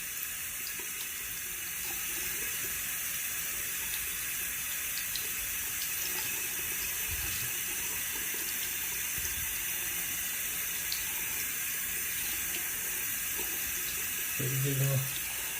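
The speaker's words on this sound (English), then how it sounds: "Give them a cool little rinse." Tap water runs steadily over freshly hatched baby bearded dragons in a sink, a constant rushing wash with a brief louder splash near the end.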